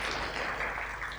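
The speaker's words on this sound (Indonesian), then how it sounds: "Yang setuju berikan tepuk tangan buat Tuhan." Church congregation applauding during a sermon, a dense, steady wash of many hands clapping at moderate distance for about a second, fairly quiet and without speech over it.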